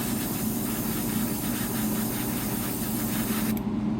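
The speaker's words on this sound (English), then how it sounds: "Right now I'm not actually spraying the color, I'm just using the air to dry it." A miniature painting airbrush blows air alone, with no paint, to dry a freshly painted figure, giving a steady close hiss that runs continuously and cuts off near the end.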